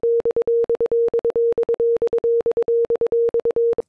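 Staccato synth lead with a solid, fully sustained tone, played as a fast repeating pattern of sixteenth and eighth notes with short gaps between each note, loud and steady throughout.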